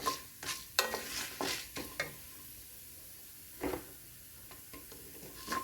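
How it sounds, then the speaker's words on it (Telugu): Fenugreek seeds frying in hot oil for a tempering give a faint sizzle, broken by several sharp scrapes and clinks of a spoon stirring in the pan, close and intermittent, then quieter toward the end. "మెంతులు వేగిపోయాయండి కమ్మటి వాసన వస్తున్నాయి"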